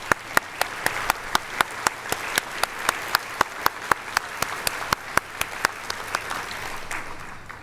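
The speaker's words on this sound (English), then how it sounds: "Can we please give them a round of applause?" A crowd applauds the community foundation staff at an awards event, dense clapping running throughout with a few sharp, loud individual claps standing out near the microphone.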